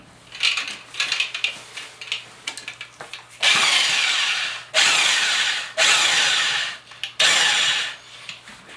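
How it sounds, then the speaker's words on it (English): A drywall mud mixer runs in loud bursts, spinning up for a couple of seconds, stopping, then starting again, after a stretch of scraping and clattering handling noises. "I'm just going to use my drywall mixer, the mud mixer"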